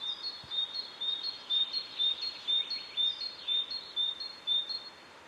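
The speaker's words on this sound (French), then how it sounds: "Il y a toujours les oiseaux" Birds sing steadily in a forest, a string of high, clear repeated chirps and short phrases at moderate distance, rising and falling in a regular rhythm over a quiet background.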